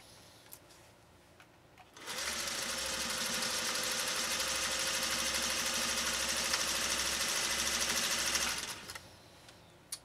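A 1956 Singer 401A sewing machine sews a blind hem stitch with a steady fast mechanical whir lasting several seconds, loud and close, starting and stopping cleanly against a quiet room.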